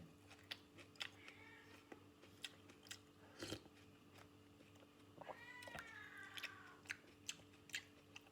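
A cat eats a late-night meal of rice, with sharp crunching and chewing clicks scattered throughout and a few meows rising in the middle and near the end, set over a steady low hum.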